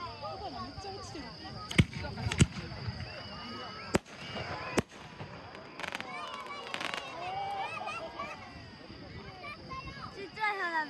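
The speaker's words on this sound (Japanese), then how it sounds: "ちっちゃい花火だ。 咲いたね、今ね。" Small fireworks bursting at the Toyota fireworks festival in Japan, with several sharp pops and crackles scattered through a busy outdoor crowd as people chatter nearby.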